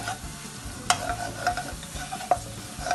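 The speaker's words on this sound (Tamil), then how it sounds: "4 டீஸ்பூன் மல்லித்தூள், 10 seconds குக் பண்ணிக்கலாம்." Coriander powder sizzles steadily in a pan for an egg curry while being stirred, with scraping strokes and a couple of sharp metallic taps of the spoon on the pan rim.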